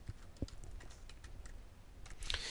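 Soft, scattered keystrokes on a computer keyboard while entering credit text in editing software, irregular faint clicks with a brief quicker burst near the end, no voices.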